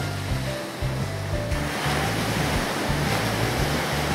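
Ocean waves roll in and break on a beach shore in a broad, steady wash of surf, loud and continuous with a low rumble and no voices.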